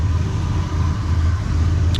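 A 1976 Ford F-250 Custom pickup truck idles steadily, its engine giving off a low, continuous rumble at close range with no talking over it.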